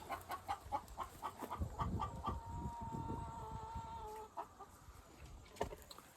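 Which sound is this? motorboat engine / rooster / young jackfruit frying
rooster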